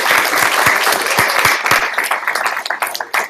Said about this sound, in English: let's give Magda a round of applause